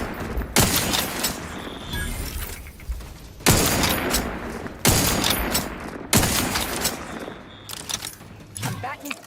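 Repeated bursts of sci-fi gunfire in the action role-playing game The Outer Worlds, loud sharp volleys recurring about every one to two seconds over a busy combat soundscape.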